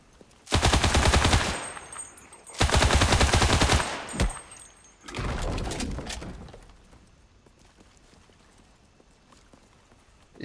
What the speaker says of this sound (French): Y'a un mec qui les shoot, c'est ça?